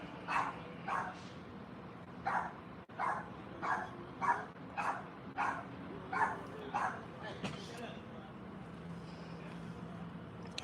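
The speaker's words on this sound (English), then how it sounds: "the dog started barking." A dog barks repeatedly in a steady, evenly spaced series of sharp woofs at moderate distance, with a brief whimpering tail as the barking trails off amid faint background noise.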